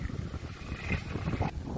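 Wind rushes through a gap beside a high mountain into an open garden, a loud, steady gusting roar with rumbling buffeting against the microphone and no talking.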